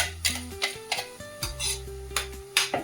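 Ground masala paste for methi matar malai poured into a pan and stirred, with a spoon repeatedly clinking and scraping against the metal in an uneven rhythm, close up and clear.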